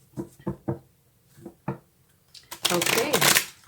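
Tarot cards being shuffled by hand: several crisp separate riffles and taps early on, then a longer, louder dense burst of shuffling toward the end, close up and in a quiet room.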